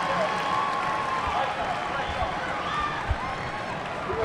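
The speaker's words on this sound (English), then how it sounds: "Listen to this crowd." Dense, roaring crowd noise fills a college basketball arena at the Ramsey Center during a late-game timeout, a continuous wash of cheering and shouting with scattered claps and a thump or two.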